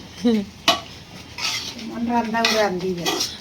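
Chickpea bhuna being stirred in a cooking pot, with a metal spatula clinking and scraping against the pan in irregular strokes over a soft sizzle, close by.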